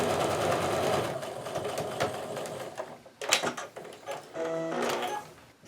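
A sewing machine stitches down both sides of a drawn line on a quilt block, its fast steady whir running continuously for about three seconds, then breaking into shorter bursts with brief pauses.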